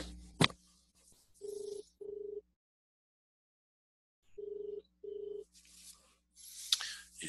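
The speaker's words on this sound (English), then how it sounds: "Okay, the phone's ringing." An outgoing telephone call rings back through the earpiece: two quiet double-pulse ring tones separated by a long silence, with faint handling clicks around them.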